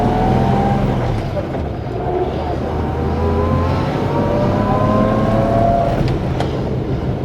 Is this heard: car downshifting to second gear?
yes